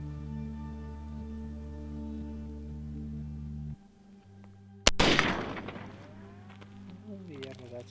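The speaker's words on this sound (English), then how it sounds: "If you're struggling, I will shoot." A single sharp crack from a lever action rifle fired at a target, loud and close, cutting through a steady low droning hum, followed by a decaying echo and faint rustling.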